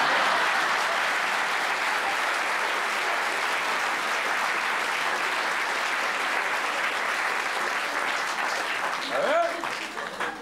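A theatre audience applauds steadily during a play, a dense wash of clapping that carries on throughout and fades slightly at the end under a brief voice.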